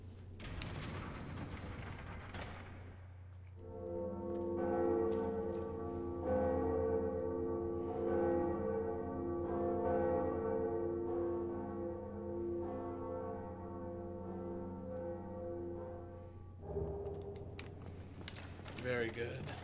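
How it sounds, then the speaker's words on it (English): The bell of awakening tolling in Dark Souls Remastered, a deep sustained ring with long humming overtones that swells and slowly fades, set against a low game rumble, with a faint voice near the start. "Let us ring the first bell of awakening"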